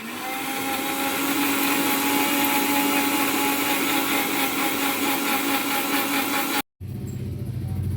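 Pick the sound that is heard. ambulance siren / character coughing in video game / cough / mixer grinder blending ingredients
mixer grinder blending ingredients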